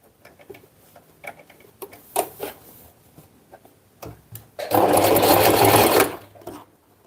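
A sewing machine stitches and backstitches, a loud, rapid mechanical rattle lasting just over a second, preceded by scattered light ticks and clicks of fabric handling.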